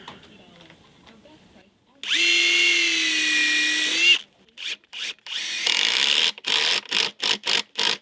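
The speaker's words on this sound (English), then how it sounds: "Okay, and then I'll drill one more over here." A power drill whirs steadily for about two seconds, then fires in a series of short bursts as it drives screws into wooden deck stair boards, close by.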